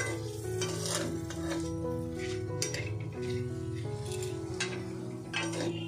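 Dry red chillies sizzle and crackle in hot oil during home cooking of a chicken dish, a steady loud frying hiss with scattered pops and a few clinks of utensils, while a tonal hum or music runs underneath.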